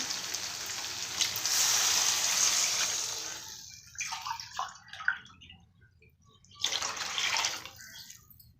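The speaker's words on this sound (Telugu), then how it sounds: "ఈ గ్లాస్తో ఒక గ్లాస్ రవ్వ అండి రెండు గ్లాసులు వాటర్ వేస్తున్నాను" Water is poured from a glass into a pan of sautéed onions for rice rava upma: a sustained close pour, then a few short splashes and another pour.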